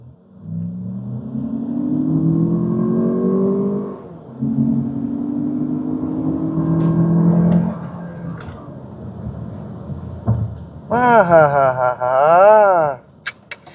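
A Lexus RX500h hybrid SUV accelerates on a test drive with a rising whine that builds through two pulls. A voice follows near the end.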